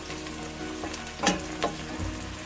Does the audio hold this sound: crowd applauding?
no